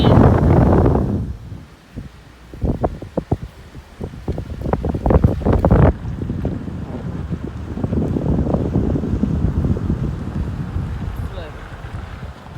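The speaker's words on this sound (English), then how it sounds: "wind." Gusty hurricane wind hours before Hurricane Delta's landfall, amid flooding, roars as a heavy low rumble against the microphone, easing after the first second and then building again. Voices speak briefly in the middle.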